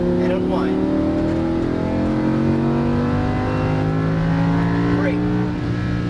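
A Lamborghini Huracan LP610-4 accelerates on a race track, its engine note climbing steadily and loudly over six seconds with rising harmonic sweeps, while an instructor talks over the engine throughout.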